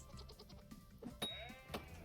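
Goat in the survival game Vintage Story giving a few short bleats, close and fairly faint, with scattered footstep-like game sounds around them.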